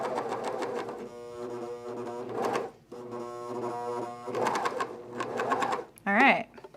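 A sewing machine stitches a pair of Glissando pants in two long steady runs with brief pauses between them, its rapid mechanical whirring close and clear, ending with a short burst of other handling noise.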